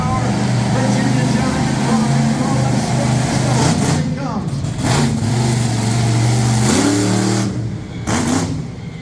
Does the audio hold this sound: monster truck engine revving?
yes